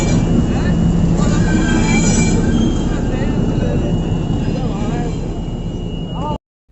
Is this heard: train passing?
yes